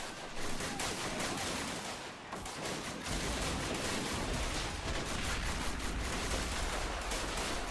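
Machine gun and rifle fire in the World War One trench game Great War Realism, a dense, loud barrage of rapid overlapping shots and distant blasts that continues without a break.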